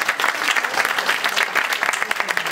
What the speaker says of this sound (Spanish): vamos a darle el aplauso